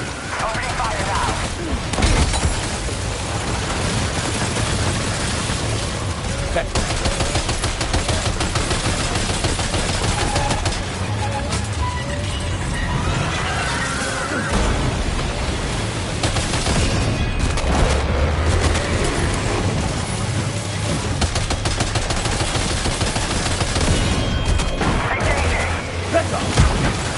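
Sustained gunfire in Death Stranding 2 on PS5 during a fight with a monster: dense rapid bursts and booming impacts crowd the whole stretch, loud and close, with voices breaking in now and then.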